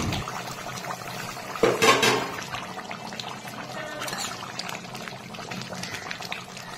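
Ritha fish curry in a spicy oil-based gravy bubbling in a pan, with a clattering burst partway through, likely a lid being lifted, over a steady low simmer.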